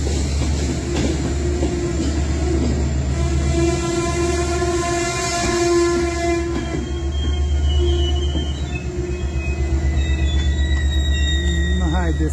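Romanian IR 367 passenger train running on a diverted Carei–Jibou route, a steady low rumble of wheels and carriages with a bright sustained horn note sounding through the middle, continuous and close throughout.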